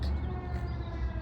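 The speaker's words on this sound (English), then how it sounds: "Oh, there's a siren." A siren wails steadily from a distance, a sustained tone that holds across the whole moment with low background rumble and no talking.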